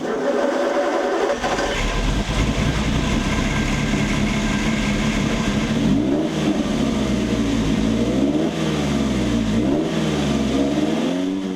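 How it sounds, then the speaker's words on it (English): RUF car with a 90-degree V8 and flat 180-degree crankshaft revving, a loud, close, continuous engine note that climbs and falls in several sweeping rises and drops. "The technical data of this engine is a V8 in 90-degree configuration. And the most important part is it has a 180-degree crankshaft"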